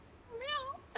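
A cat at home gives a single short, rising and falling meow, close and fairly clear, ending with a brief burst of noise.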